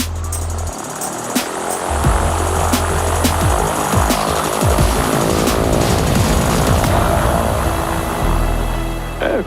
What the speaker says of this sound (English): In this plane, hydrogen is being used in a fuel cell to run an electric motor, producing zero carbon emissions.